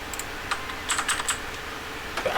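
Computer keyboard keys tapped while working in GIMP, a handful of crisp separate clicks with a short quick burst in the middle, close and clear over a quiet room.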